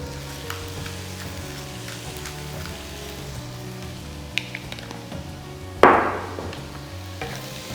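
Seasoned carrots and sweet potatoes with salt and pepper sizzle steadily in a pan while being stirred, with soft scrapes and one sharp louder burst of frying near the end.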